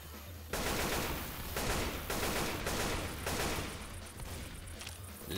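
Sustained bursts of automatic gunfire from a multiplayer shooter game rattle loudly and close, in long rapid volleys with brief gaps between them.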